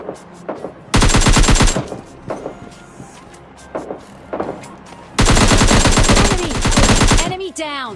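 Two long bursts of rapid automatic gunfire from PUBG Mobile Lite, loud and close, separated by scattered single shots and footsteps, with a reload clatter and chiming sounds at the end.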